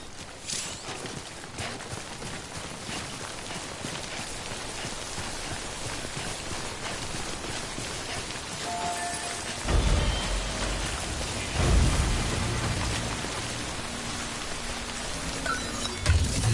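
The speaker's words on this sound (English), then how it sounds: "Don't stay out in the rain any longer than you have to." Timefall rain in the Death Stranding video game, a continuous dense hiss of rainfall that swells with heavier low rumbling surges partway through, steady throughout with no voices.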